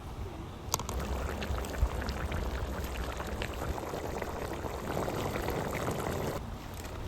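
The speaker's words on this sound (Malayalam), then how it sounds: "ഇപ്പം നമ്മൾ ചിക്കൻ നല്ലപോലെ തിളച്ച് വന്നിട്ടുണ്ട്" Kerala village-style chicken curry bubbling at a full boil in a pot, a steady close-up churning of liquid that runs without a break for about seven seconds and carries no speech.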